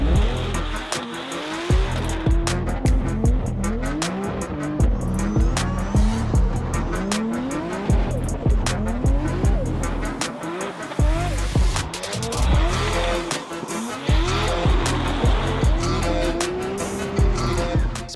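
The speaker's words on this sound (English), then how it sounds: "Then Anatoly went out to test that lovely triple power steering pump setup." A drift race car with a triple power steering pump setup is driven hard at an RDS Open event, its engine revving repeatedly between sharp tire squeals and skids, loud and continuous throughout.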